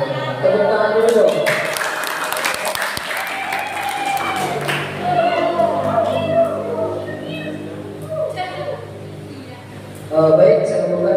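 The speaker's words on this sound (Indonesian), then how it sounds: "Tepuk tangan dulu dong." Audience clapping at an Islamic seminar hall, a broad wash of applause mixed with loud voices and shouts over it, easing off midway and then rising again near the end.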